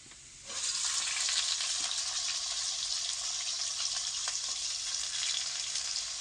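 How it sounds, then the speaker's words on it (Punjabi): Onions go into a pan with lightly browned garlic and start frying with an abrupt, steady bright sizzle that stays close and even throughout, with faint stirring scrapes and no talk. "ਹੁਣ ਆਪਾਂ ਇਹਦੇ ਵਿੱਚ ਪਿਆਜ਼ ਐਡ ਕਰ ਦਿੰਨੇ ਆ"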